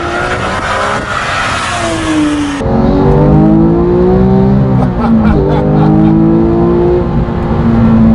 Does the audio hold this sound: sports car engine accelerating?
yes